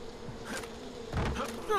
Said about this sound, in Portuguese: Onde tá essas abelhas, né?